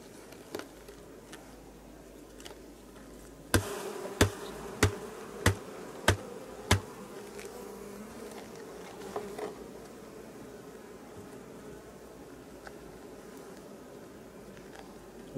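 Bees buzz in a steady low drone at a hive with comb built beneath a forgotten bee escape, interrupted by a run of six evenly spaced sharp knocks, then a few fainter taps.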